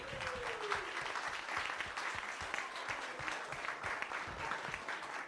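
An audience at a venture capital panel event gives steady, moderately distant applause for the event and video teams, an even patter of many hands lasting several seconds.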